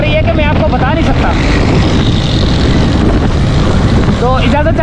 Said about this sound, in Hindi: अभी हवा इतनी तेज़ चल रही है कि मैं आपको बता नहीं सकता